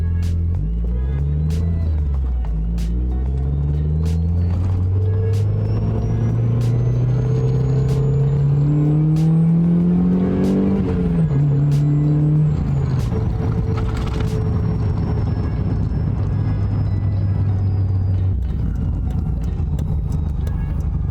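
A fully warmed-up Mazda Miata engine runs close up, first idling, then revving so its tone climbs, then dropping back to idle, with faint sharp ticks over the steady hum.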